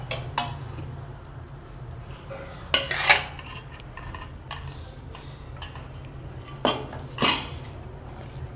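Crumbled idli being mixed with sugar syrup in a vessel, heard as sparse spoon clinks and scrapes against metal with a few sharper knocks, over a low steady hum and without speech.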